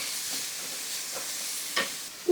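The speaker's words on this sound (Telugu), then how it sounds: "మనం ఫ్రై చేసుకోవాలి." Capsicum and carrot strips fry in a pan with a continuous close sizzle and a few brief stirring scrapes, the last one louder.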